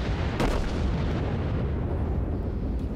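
Warship guns firing in the naval combat game World of Warships, with a loud boom early on over a dense, continuous rumble of distant gunfire and battle noise.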